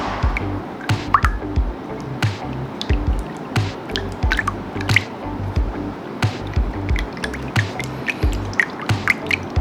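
Eggs are beaten into half a kilo of ready-made coconut milk for homemade kaya jam, giving wet, uneven squishing and dripping sounds with irregular clicks of a whisk against the bowl, close and moderately quiet.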